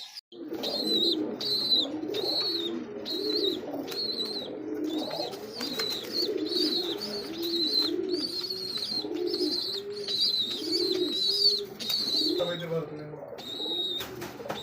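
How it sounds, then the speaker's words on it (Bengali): King pigeons coo steadily in repeated soft, throaty phrases, with higher chirps layered above throughout; several birds sound close by. "দেখছেন কত সুন্দর একজোড়া কিং কবুতর দেখতে পাচ্ছি"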